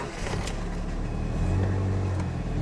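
A car engine idling steadily right after a jump start from an ANCEL BS200 battery booster: a continuous low rumble close by, with a faint whine running through it and no speech.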